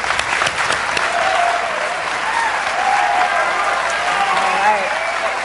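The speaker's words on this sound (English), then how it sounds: "Let's hear one last round of applause for them." Loud, sustained applause from the audience closes the 2018 Iowa gubernatorial debate between Hubbell and Reynolds, a dense crowd clapping with some voices underneath.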